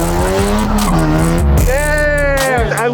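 A Ram TRX truck accelerating hard in a drag race, loud engine roar rising in pitch through the gears with tire squeal, voices faintly mixed in.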